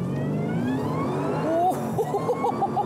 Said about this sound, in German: Also im zweiten Gang mega Wheelspin, ohne mit der Kupplung zu spielen.